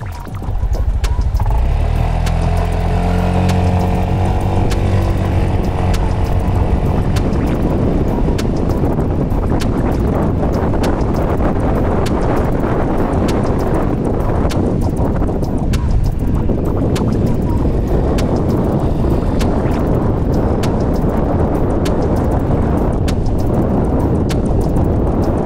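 Honda BEAT 2024 scooter pulling away from a standstill, its engine note rising through the first seconds before dissolving into constant loud wind rush and road roar as it keeps riding, with no talk.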